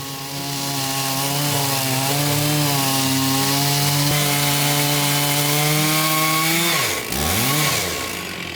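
A chainsaw bites into a large zelkova log, its engine roaring loud and steady under load for several seconds before dropping and revving back up as the cut ends.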